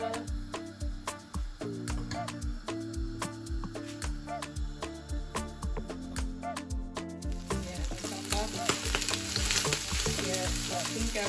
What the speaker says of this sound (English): No, I'll fry the gizzard.